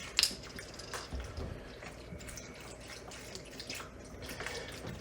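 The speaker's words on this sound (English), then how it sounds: "I'm gonna put in two of these chicken broths" Swanson's chicken broth pours into a soup pot of vegetables, a soft, faint liquid splashing and gurgling that runs for a few seconds without any voices.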